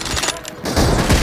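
Sniper rifle shot in a mobile shooter game (team deathmatch mode), a sharp burst followed by a brief noisy tail and game effects, loud and close within a short span.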